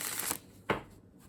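Tarot cards shuffled by hand close to the microphone: a longer papery riffling burst followed by a second quick flutter, with no voices.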